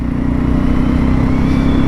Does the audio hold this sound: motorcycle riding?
yes